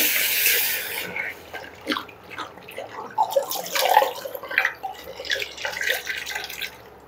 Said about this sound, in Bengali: তার জন্য একটা কড়া বসিয়ে দিচ্ছি, কড়াতে জল দিয়ে দিচ্ছি।